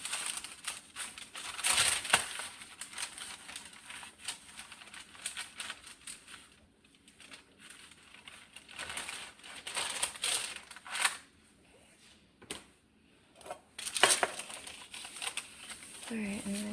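Parchment paper crinkles and rustles as shaped sourdough dough is turned out onto it, close and crisp, in uneven bursts of crackling and a few sharp snaps.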